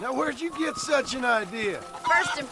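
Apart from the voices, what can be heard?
No everyday noises stand out.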